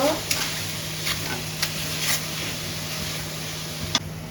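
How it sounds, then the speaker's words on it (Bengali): Sweet palm fruit pulp filling is stirred into melted sugar in a pan, a soft continuous sizzle broken by a few sharp scrapes of the spoon, close and steady without speech. "এখন এই তালের শাঁসটা দিয়ে দেব মিশিয়ে নেব"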